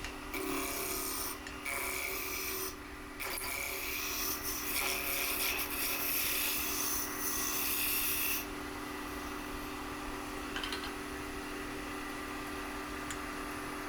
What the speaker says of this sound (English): I'm using a 3/4 inch roughing gouge to reduce the